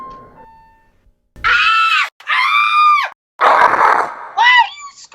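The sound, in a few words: people screaming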